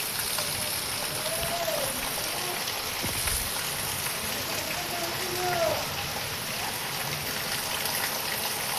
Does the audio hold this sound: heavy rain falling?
yes